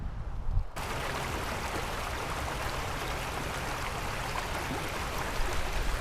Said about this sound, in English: enjoying the sounds of this here creek